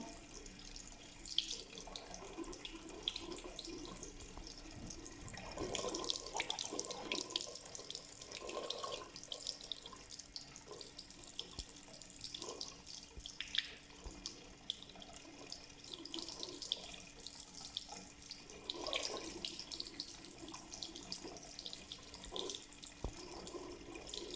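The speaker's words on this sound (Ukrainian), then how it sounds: "Підносимо нашу пробірку під холодну воду, щоб вона швидше охолола." Cold tap water runs steadily over a laboratory test tube holding a hot lead(II) salt solution, a continuous close splashing hiss with small drips throughout.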